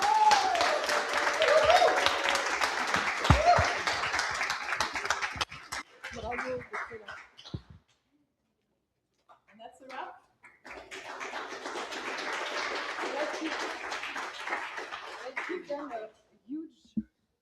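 A tech bootcamp demo day crowd breaks into two bursts of applause with a quiet gap between them, spirited clapping mixed with shouts and whoops.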